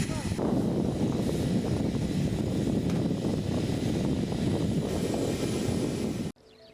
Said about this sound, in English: The F-15E StrikeEagle, America's ultimate multi-role fighter jet.